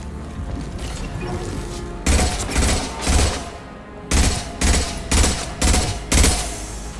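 Gunfire in Mass Effect 2 Legendary Edition: loud, clattering automatic bursts repeat in a quick rhythm of about eight short volleys, following a stretch of rattling mechanical noise.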